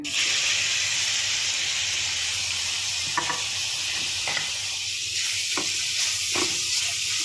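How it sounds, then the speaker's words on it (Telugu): Carrots frying in ghee for carrot halwa give a steady, close sizzle and hiss throughout, with a few brief stirring scrapes in the pan and no talking. "ఇప్పుడు క్యారెట్ వేస్తున్నాం నేతిలో వేపుకున్నాం"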